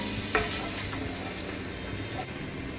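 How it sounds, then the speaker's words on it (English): Pancetta fries in the main pot for beef bourguignon, a steady close sizzle of rendering fat with a brief metallic scrape of stirring near the start and another faint clink later. "Now you can see that pancetta's rendering out all that beautiful fat and those juices"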